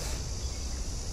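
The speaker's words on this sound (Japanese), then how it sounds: "セミの声とかもこう聞こえるので、ちょっとくつろぎに来るのは楽しいかもしれないですね。" Cicadas sing in Kang Lok Park near Fanling Station in Hong Kong, a steady high buzzing drone filling the air against low background rumble, with no talk.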